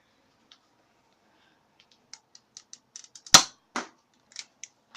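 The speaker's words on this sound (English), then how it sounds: "I'm going to do a couple of shots, 2 shots with the barrel off, and then 2 with it on." Nerf Sharpfire foam blaster being fired, tested with the barrel off and then on: a sharp loud pop followed by another close shot, set among many light clicks and mechanical ticks of priming and handling, with no talk.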